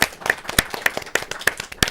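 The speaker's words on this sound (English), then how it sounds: "Let's give him a round of applause." Sparse, sharp hand claps ring out in a quick uneven rhythm in a television studio, just a few people clapping close by rather than a full crowd.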